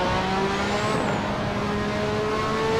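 Engine of a Lotus 98T Formula 1 car in Assetto Corsa, a loud, sustained high-pitched racing wail holding a steady drone with slowly shifting pitch, heard alone and up close.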